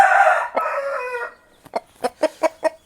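A rooster crows once in a long, loud call, followed by a quick series of short, sharp clucks; a black-coloured fighting rooster up for sale.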